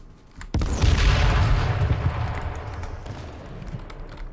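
A large explosion booms in the H1Z1 video game, a sudden loud blast with a deep rumbling tail that slowly fades over several seconds.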